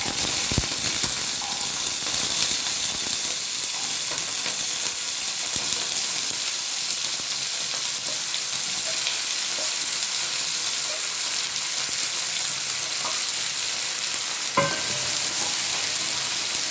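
Ginger, garlic and small onions fry in coconut oil for a Kerala mutton curry, a steady close sizzle and hiss with occasional stirring scrapes.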